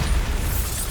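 A Bombarda spell detonates in Hogwarts Legacy, a loud, dense burst of broadband blast noise filling the short moment without any speech.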